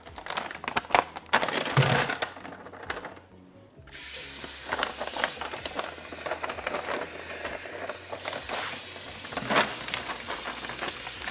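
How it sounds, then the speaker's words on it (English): Raw thawed shrimp rinsed under cold running tap water in a colander at a kitchen sink, a steady close hiss of spray with clatter and handling noises, starting after a brief quiet gap. "what I'm going to do next is just put it in a colander and rinse it with cold water"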